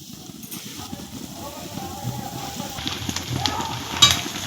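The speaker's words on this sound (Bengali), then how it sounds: "একটু নাড়াচাড়া করে এই পিঠেগুলো ভেজে নেব" Puffed rice cakes (muri pitha) frying in oil, a soft continuous bubbling sizzle close by with some stirring and a brief clank near the end.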